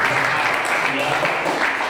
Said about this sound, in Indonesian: tepuk tangan untuk Mas Andi, Mas Picak